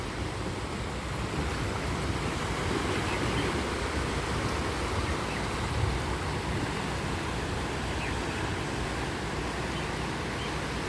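Evening sea waves rolling onto the Hong Kong shore make a steady, moderately loud surf rush with gentle swells and no voices.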